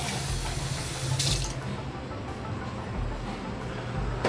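Tap water running into a sink while a coffee machine is cleaned, a steady close splashing flow with brief brighter spatters and a low hum underneath.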